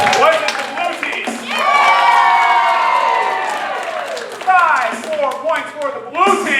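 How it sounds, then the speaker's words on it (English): Children's audience cheering for a team at a quiz game, with excited shouts and high-pitched cheers swelling into a sustained burst, then scattered yelling and clapping mixed with voices. "Now I want you to cheer for both teams."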